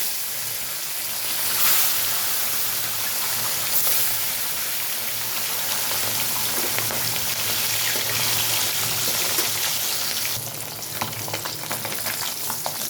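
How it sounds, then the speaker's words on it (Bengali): Bata fish fry in hot mustard oil in a wok, a steady, close sizzle like heavy rain with rising and falling crackle, easing slightly toward the end, no voices. "কড়াইতে সর্ষের তেল গরম হয়ে গেছে। এখন আমি মাছগুলোকে ছাড়ছি ভাজার জন্য।"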